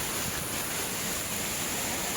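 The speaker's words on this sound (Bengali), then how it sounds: "সবার আগে আমরা ঝর্ণা দেখছি" Ham Ham waterfall near Sreemangal pours in a steady, dense roar of falling water, a continuous broadband rush that fills the whole moment with no voices over it.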